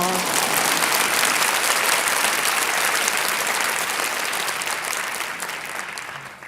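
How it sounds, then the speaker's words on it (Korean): Congregation at a Korean church prayer service breaks into loud, sustained applause, a dense wash of clapping that holds steady for several seconds before slowly tapering off. "하나님의 박수 좀 치세요"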